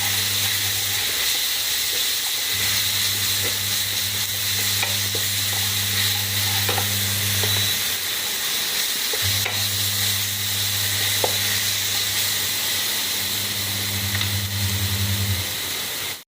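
Chicken curry ingredients with ginger-garlic paste sizzle steadily in a hot pan while being stirred, with a constant frying hiss, scraping stir strokes and a low humming tone that cuts in and out.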